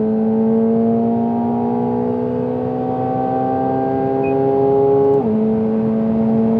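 A McLaren 750S V8 engine revs high and steady, a loud sustained whine climbing slowly in pitch before a sudden shift drops it, then holds at full volume with no talk.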